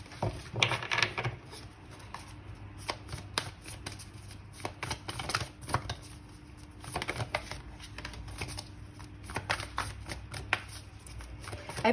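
A deck of Black Moon Astrology oracle cards being shuffled close by, with a quiet, steady run of soft riffling and flicking taps lasting throughout.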